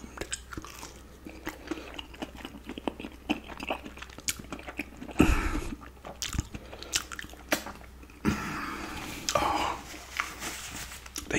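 Close, wet biting and chewing of chicken goujons with gravy, a continuous series of soft crunches and squishy mouth sounds with brief louder bites.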